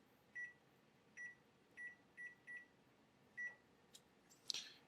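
A kitchen timer being set for a pot of simmering water lets out six short, evenly pitched beeps in a quiet room, followed by a couple of faint clicks and a brief rustle at the end.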